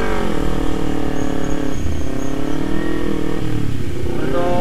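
A Kawasaki Z250 motorcycle engine runs close and loud, its revs rising and falling in a few swells over a steady mechanical drone, with no talking.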